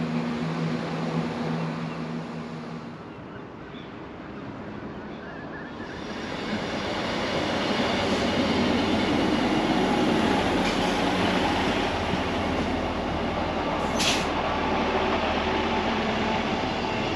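A CrossCountry train runs on the rails near Montrose, giving a loud, steady rumble with rattling that dips briefly then swells again, plus a short high squeal near the end.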